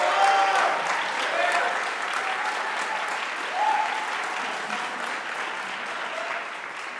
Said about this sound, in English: I would like for you all to please give a round of applause